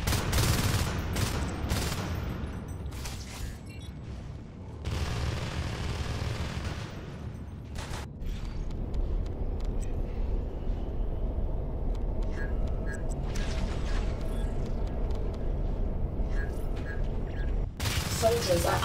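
Rapid bursts of automatic gunfire and booms during a base attack in the sci-fi shooter Natural Selection 2, loud and close, with a brief lull partway, then more shots and electronic effects.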